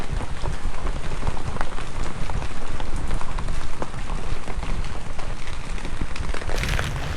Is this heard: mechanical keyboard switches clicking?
no